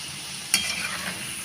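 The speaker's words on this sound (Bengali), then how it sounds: "যখন ভাজা হয় তখন দেখো কত সুন্দর লাগে, চিকেন বলগুলো কিন্তু ভাসছে" Chicken balls frying in hot oil, a steady soft sizzle with a brief sharp crackle near the start.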